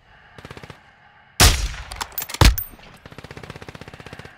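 Video game gunfight with rapid automatic fire: quiet distant bursts at first, then two loud, close cracks of heavy shots, followed by a steady chattering stream of machine-gun rounds at moderate distance.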